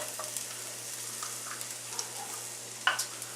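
Garlic sautés in a preheated pan, producing a soft, continuous sizzle with light scraping and stirring clicks close by, ending in a sharper clatter.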